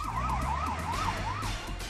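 Ambulance siren wailing in a smooth rising-and-falling sweep, repeating several cycles over a steady low traffic rumble, close and loud with no voices.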